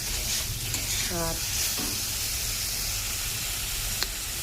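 Poppy seed masala fries in oil in a pan, a steady close sizzle and hiss with a brief stirring scrape partway through; a voice speaks one short word over it.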